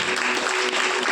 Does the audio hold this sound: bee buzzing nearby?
no